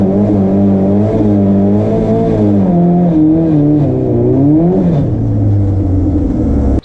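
A Nissan 180SX engine roars loud and close during a hard launch, its pitch climbing and wavering steadily as the drivetrain shakes, with no talking.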